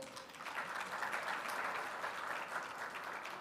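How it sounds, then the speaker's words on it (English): Audience applause at a Global Buddhist Summit, steady dense clapping filling the whole moment at moderate distance, with no voices over it. "Let's give Dr. Hindol Sen Gupta a big round of applause."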